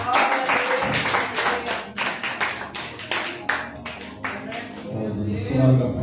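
Congregation clapping during an evening church service, loud rhythmic handclaps close by, with singing or talk underneath.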